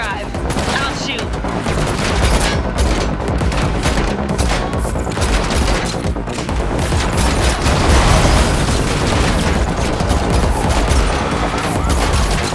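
Dense automatic gunfire and explosions in The Matrix Awakens Unreal Engine 5 video game during a car chase, loud and continuous bursts layered with booms, with voices speaking over the chaos.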